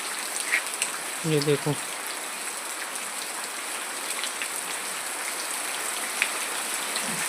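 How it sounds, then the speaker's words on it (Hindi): Heavy rain pours steadily at a farmhouse, a constant wash of hiss with scattered drops striking nearby surfaces, while a voice speaks briefly near the start. "कितनी तेज बारिश आ गई एकदम से।"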